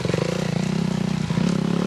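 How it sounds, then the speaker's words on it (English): Dirt bike motorcycle engine buzzing steadily during a team race, a close, rough, rattling drone that holds its pitch throughout. "We'll be right back whenever more dirt bikes come through."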